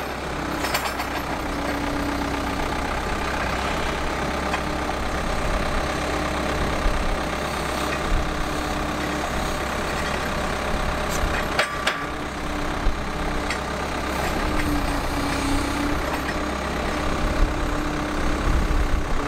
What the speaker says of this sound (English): Then we got Justin setting them up in the direction that they're gonna go in the semis with the skid steer.